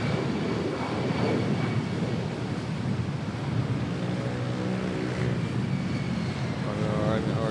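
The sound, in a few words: airplane quick takeoff at Manila airport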